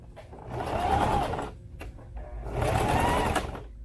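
Two bursts of rapid stitching from a sewing machine sewing a sling saddle, each lasting about a second with a short pause between, close and clear with no talk.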